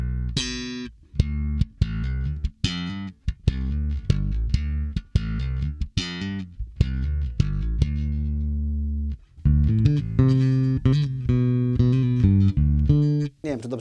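A 42-year-old Japanese Tokai TPB-57 bass guitar played through a Fender Rumble 100 amplifier, loud plucked notes in a steady run of separate attacks, shifting into fuller sustained phrases toward the end, with no talking.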